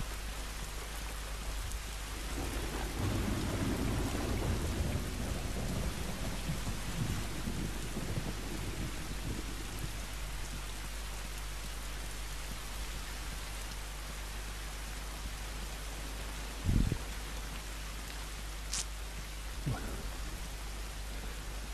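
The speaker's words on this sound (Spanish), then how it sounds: "¿Cómo suena la tormenta, chavales?" Steady heavy rain pours throughout in The Last of Us Remastered on PS4, with a low rumble of thunder early on and a couple of sharp, distant cracks later; no voices.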